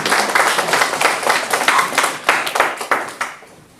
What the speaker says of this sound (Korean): 다시 한번 박수 쳐요.